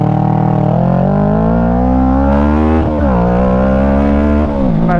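Kawasaki Ninja 650 motorcycle accelerating hard from a stop in first gear, a loud close engine note rising steadily in pitch with a brief dip at a shift before climbing again.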